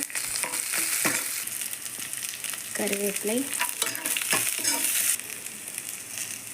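Onions sizzle and crackle steadily in hot oil with mustard seeds, chana dal and dried red chilies, with occasional stirring scrapes and a brief spoken word.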